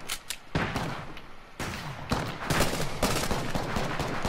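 Rapid video game gunfire: dense, loud, continuous bursts of shots with brief gaps, close and overlapping throughout.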